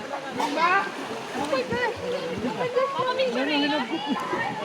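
Water splashing and pouring while a child is bathed outdoors in Jaro, Leyte, continuous close splashes under overlapping talk from adults and a child.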